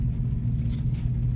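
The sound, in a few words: big crane truck engine rumbling nearby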